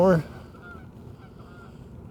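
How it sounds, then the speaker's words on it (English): A single loud, close goose honk bursts out at the very start, then fades into a low, steady outdoor rumble. "more geese."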